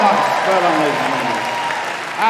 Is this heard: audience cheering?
yes